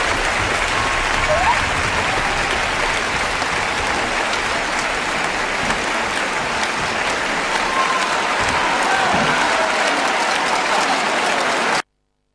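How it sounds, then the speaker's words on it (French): A studio audience claps to welcome a singer onto a gospel television show, dense sustained applause filling the room evenly for about twelve seconds before cutting off abruptly. "Elle a besoin de vos applaudissements."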